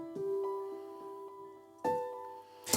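Second piano layer of a main loop: a held note rings out from the start, joined by a fresh chord about two-thirds through and a bright attack at the very end, even and unaccompanied.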